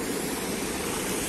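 A waterfall at Jaigaon near the Bhutan border pours with a dense, continuous rushing roar, close and steady with no speech over it.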